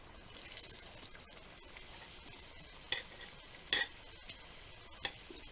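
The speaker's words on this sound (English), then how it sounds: "let's get it over here and we'll deep fry some and see what they look like." Appetizers deep frying in hot oil give a faint, steady sizzle with a few sharper pops and crackles spaced through it. Nobody speaks over it.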